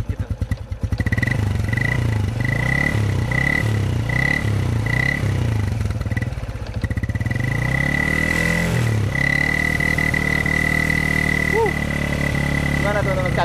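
A 2007 Honda Revo 100 motorcycle with only 3,500 km in 15 years runs up close through its exhaust canister. Its steady, bassy idle carries a slight rattle and a brief rise in revs near the end.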